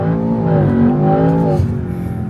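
A Land Rover Defender Octa launches hard from a standstill, its engine roaring loudly with a rising, layered note that settles as the gear shifts, heard up close from the cabin.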